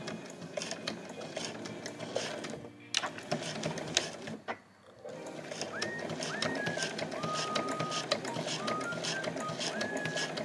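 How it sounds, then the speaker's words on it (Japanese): A sewing machine stitches the tab of a fabric IC card case with a steady, continuous mechanical whir that pauses briefly around midway, with faint bird-like chirps in the background. "そしたら続けてタブも縫います。"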